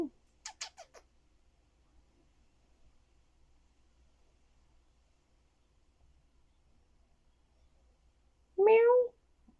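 A cat gives one short, clear meow near the end after a long stretch of quiet, preceded by a few faint ticking sounds at the start.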